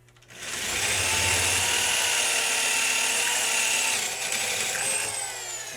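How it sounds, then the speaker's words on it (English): A drill fitted with an 8.5 millimeter bit bores out holes for a Timbersled wheel kit, the motor spinning up and whining steadily for several seconds before easing off near the end. "We're going to drill out these holes."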